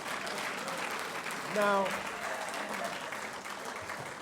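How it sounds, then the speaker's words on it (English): A round of audience applause inside Muhammad Mosque, a brief burst of clapping that swells and fades over a couple of seconds, with someone talking before and after. "Arsenio is somewhere he don't even know he got a round of applause inside Muhammad Mosque"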